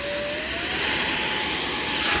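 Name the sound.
3D printed PLA Viggen 50mm RC jet launched by hand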